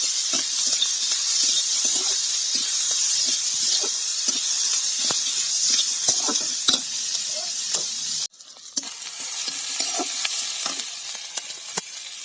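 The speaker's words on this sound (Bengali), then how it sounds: "ভালো মতো ভেজে নেব।" Pointed gourd fries in hot oil with onion and green chili, a steady loud sizzle with frequent clicks of a stirring spatula, briefly interrupted before the frying and stirring resume.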